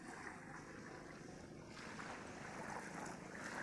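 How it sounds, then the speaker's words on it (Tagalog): Faint, steady wash of ocean waves on a beach with wind rumbling against the microphone, no voices. "Nandito kami ngayon sa tabing dagat."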